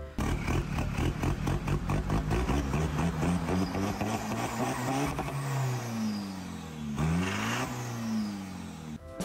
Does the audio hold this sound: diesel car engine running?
yes